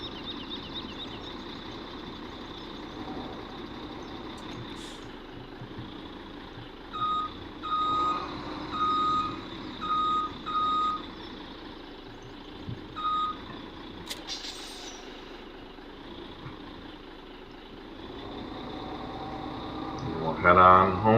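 In a video game, a truck reverses toward a log trailer, its backup alarm beeping in a regular series over a steady engine drone, with a person talking intermittently.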